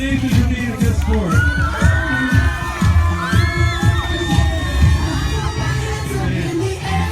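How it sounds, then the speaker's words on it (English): Schoolchildren in an assembly crowd cheer and shout loudly for a young volunteer after a bike show, with high whoops and yells over a bed of clapping, sustained close and energetic. "Make some noise for Nathan for being a good sport."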